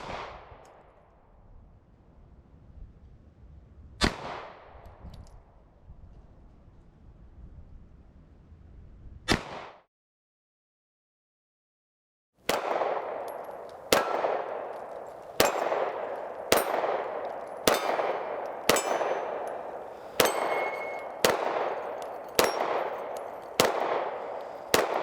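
A Beretta APX pistol fires and its rounds ring off steel targets. A few spaced shots come with a pause between them, then a steady string of about a dozen sharp, loud reports, each followed by a metallic clang.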